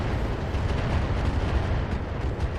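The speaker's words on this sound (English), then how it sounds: "That's a lot of firepower coming from those turrets." Missile turrets firing and explosions in the BattleTech video game, a dense continuous roar of blasts and rumbling booms that stays loud throughout.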